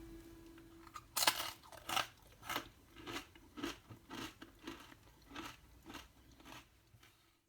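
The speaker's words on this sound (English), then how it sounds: "The biscuits should snap and be crunchy. Let's do the snap and crunch test." Almond biscotti, Italian twice-baked almond biscuits, snapped and bitten: a sharp crack followed by a steady run of about a dozen crisp, close crunches in rhythmic succession, with no talking.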